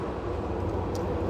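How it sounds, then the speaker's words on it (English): A train passes about 30 meters from a balcony, a steady loud rumbling roar with continuous rail noise throughout the short stretch. "And also, I think there will be a train."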